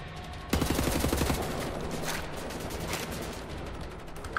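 Gunfire in the shooter game Wolfenstein: The New Order, a sudden loud burst of rapid automatic fire that starts after a brief quiet and continues as a sustained, dense barrage of shots, with no voices.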